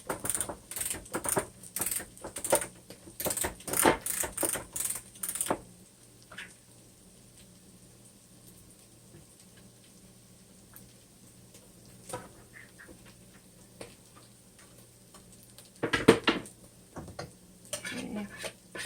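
A manual hand can opener cranks around a can in a quick run of sharp clicking ticks, then a long quiet stretch, and another short burst of ratcheting clicks near the end.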